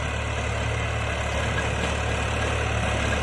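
A modified New Holland 3600-2 tractor engine idles close by with a steady, even diesel rumble and a faint vibrating hum, alone and unchanging throughout.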